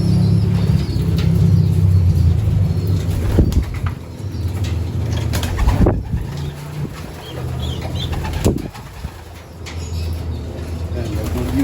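Young racing pigeons in a loft and aviary coo and flap their wings in close, busy bursts, with low rumbling coos running steadily throughout and a person talking faintly in the background.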